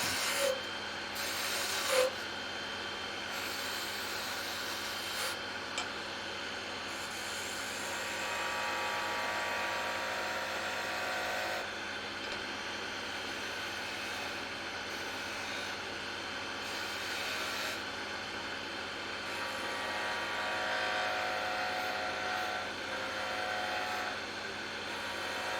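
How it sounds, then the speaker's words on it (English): A wood lathe takes a light peeling cut while turning a snowman ornament, a continuous rasping, rubbing scrape with shifting tone and a few brief sharper clicks, steady at close range with no talk. "So I'm going to come in and do just a little bit of a peeling cut."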